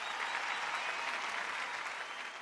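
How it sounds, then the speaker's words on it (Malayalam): An audience at a Malayalam television game show claps in a dense, steady round of applause, close and sustained without breaks. "1000 രൂപ നല്ലൊരു കൈയടി"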